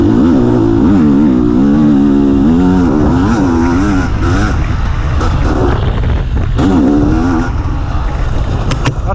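A KTM EXC 250 TPI two-stroke dirt bike ridden on a slippery trail, its engine loud and close, revving up and down continuously with wavering pitch and rough, buzzing exhaust throughout.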